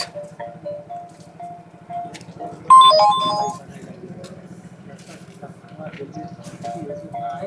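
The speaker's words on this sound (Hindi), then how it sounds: "उनका फोन नहीं लग रहा है भैया, ताहिर जी का भी फोन नहीं लग रहा है।" A telephone ringing tone sounds during a call, a bright electronic ring burst rising briefly mid-clip over a low steady hum, with people talking before and after.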